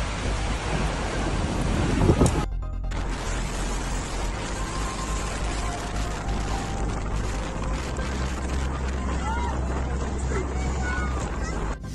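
Hurricane-force wind roars with crashing surf along the Black Sea coast at Batumi, Georgia, a dense continuous rumble with heavy wind buffeting on the microphone throughout.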